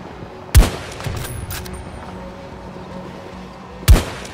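Gunfire in the shooter game Battlefield 2042, two loud, sharp gunshot blasts a few seconds apart with faint distant pops and battle noise between them.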